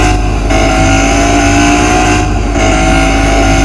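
An SUV engine pulls hard under acceleration on a test drive, a loud, steady roar that holds close and constant throughout with no talk.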